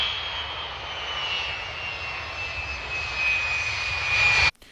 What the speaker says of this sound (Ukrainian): І літак в нас стає гучніше в лівому вусі, тому що він стає ближче до лівого краю нашої картинки